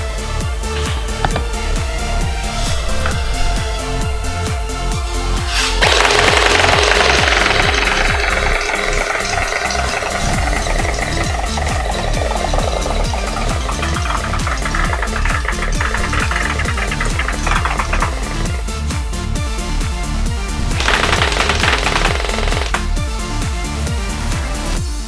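A Le Hui Kriss Vector V2 gel blaster fires through a full magazine in a fast mechanical rattle of shots, with louder bursts near the start and again toward the end, and no talking.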